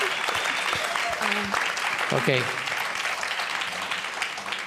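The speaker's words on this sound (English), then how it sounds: "You got applauded out of the last part of you" Audience applause at a gathering breaks out over a moment of talk, a dense steady clapping that fills the room while a voice speaks briefly within it.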